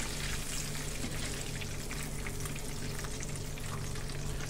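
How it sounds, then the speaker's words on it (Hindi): Beef fries in hot oil with a soft, steady sizzle and crackle that continues evenly throughout, faint and unaccompanied by speech. "इस तरह पूरा बीफ को हमको फ्राई करना है"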